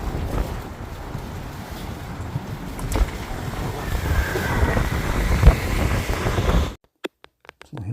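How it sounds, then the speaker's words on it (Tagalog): Strong wind gusting loudly across the microphone outdoors in Canada, a buffeting rumble that swells and drops before cutting out abruptly near the end. "lakas ng hangin"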